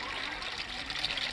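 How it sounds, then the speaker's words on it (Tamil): Water pouring from a tap into a pot, a steady hissing, splashing stream that stays close and even throughout the short stretch, with no talk. "ஒரு குடம் தண்ணி விடுப்பா."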